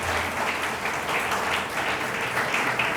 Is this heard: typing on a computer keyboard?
no